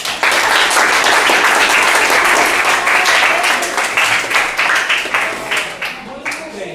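Audience of eighth-grade pupils clapping at a school debate on monarchy versus republic in a state school classroom, a loud sustained round of applause with distinct claps that thins out toward the end.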